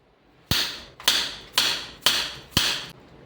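A knife slices a potato for bajji on a cutting board: five crisp, evenly spaced chops, close and distinct, each with a quick fade, with no talking.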